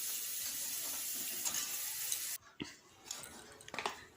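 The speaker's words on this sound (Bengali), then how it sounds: "তো কাঁকড়াটা আমি ভেজে নিচ্ছি।" Crab frying in a pan gives off a steady, close hiss of sizzling oil that stops abruptly partway through, followed by a few soft clinks and scrapes of a utensil.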